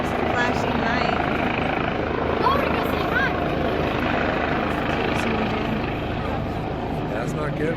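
A medevac helicopter flies nearby over a windy Bear Lake, its steady, loud rotor drone filling the scene throughout while people talk over it.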